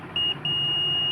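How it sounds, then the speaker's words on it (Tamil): A water level controller, the FAWLC-040 switch-type model, gives a steady high electronic beep as the pump motor switches on, starting with a short tone, pausing briefly, then holding a continuous tone close to the microphone. "இப்போ மோட்டர் ஆன் ஆன உடனே பீப் சவுண்ட் கேட்கும்."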